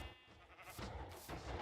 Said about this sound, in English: There's a sheep, 2 sheep farms or wool farms.